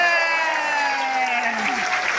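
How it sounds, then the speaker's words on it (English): Applause fills a seminar hall during a Millionaire Mind Intensive session in Chennai, a broad steady wash of clapping across the whole stretch with a crowd murmur and a faint voice line gliding beneath. "Give us a huge round of applause."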